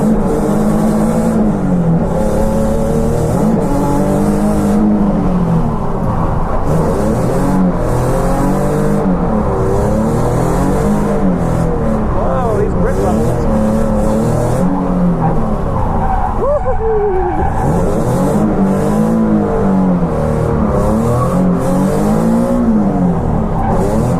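A Nissan 370Z drifts on a wet track, its engine running rough as revs rise and fall in repeated surges with tire squeal, loud and close throughout, no talk.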